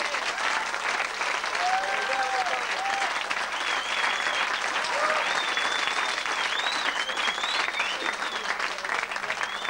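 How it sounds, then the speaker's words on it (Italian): A live audience at a 1993 stage show applauds the band with sustained, even clapping, and cheers and whistles ring out over the crowd. "Vorrei un bel applauso per la band"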